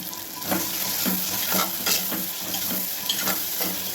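Salted vegetables being sautéed in a pan crackle and sizzle up close while a spoon stirs them in regular strokes roughly every half second, with no speech.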